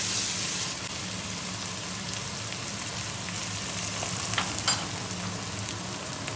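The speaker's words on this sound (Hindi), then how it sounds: "तकरीबन 3 से 4 मिनट के लिए भूनेंगे इसको।" Anda chana, an egg and chickpea masala, sizzles in a pan in a steady, soft crackling hiss, louder for a moment at the start, with a few faint clicks of stirring.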